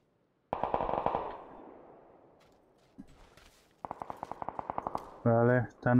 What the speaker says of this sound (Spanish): Escucho los disparos ahí.